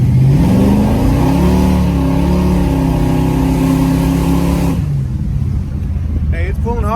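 Chevrolet Impala SS with a rebuilt 4L60E transmission accelerating hard, a loud, close engine roar climbing steadily in pitch for several seconds before dropping away into road and wind noise, with a brief voice near the end.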